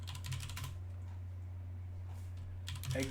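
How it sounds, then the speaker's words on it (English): A short command is typed on a computer keyboard as two brief clusters of close, quiet key clicks with a pause between them, over a steady low electrical hum. "So I'm going to type exit"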